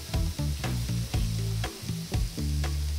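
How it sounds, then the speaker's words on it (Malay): Food starts grilling on a hot surface, a loud close sizzle that comes in repeated surges, with low rumbling bursts and sharp crackles over about three seconds. "Saya akan mula panggang. Dengar bunyi tu."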